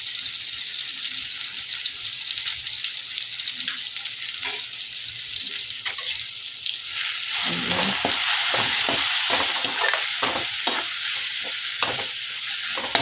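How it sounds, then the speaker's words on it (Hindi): Spices, chili, turmeric and coriander, being fried and stirred in a pan, with a steady sizzle and repeated scraping strokes of a spoon that grow louder and busier in the second half. "थोड़ा इसको भूनने देंगे।"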